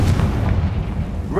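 A Confringo blasting spell explodes in Hogwarts Legacy: a loud, deep, sustained boom with a rumbling low end that fills the whole moment, close and heavy, with no talking over it.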